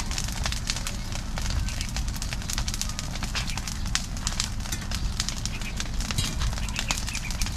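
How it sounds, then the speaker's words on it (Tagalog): Garbage and plastic bottles burn in an outdoor pile on a farm, giving a steady crackling roar with dense popping snaps throughout, close and continuous, with a voice faintly in the background. "Sunog din yung mga basura kabsat kasi tinapunan ng mga plastic"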